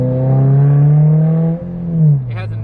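A 2022 Subaru BRZ fitted with a new catback exhaust revs up, holds a deep, smooth drone, dips, then rises into a second quick rev before settling, close and loud.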